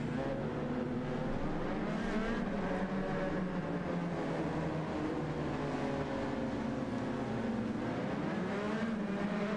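Group 3 race cars circling Daytona International Speedway in Gran Turismo 7, a dense, steady engine roar with several overlapping revving tones that swell and shift, loud and continuous with no talking.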